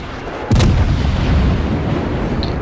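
A heavy battleship salvo in a World of Warships naval battle booms out, one sharp, loud report that rolls into a long rumbling tail over steady background noise.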